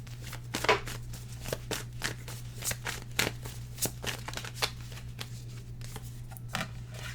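Tarot cards are shuffled close up in a quick, irregular series of riffling flicks and snaps over a steady low electrical hum, with no talk.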